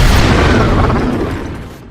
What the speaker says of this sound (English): It's a laser gun.